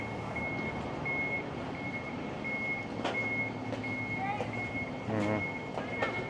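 Trucks back up on a city street near Canada Place in Vancouver, a steady high reversing beep repeating at even intervals over rumbling engines and traffic noise, with a hiss of air brakes and people talking nearby.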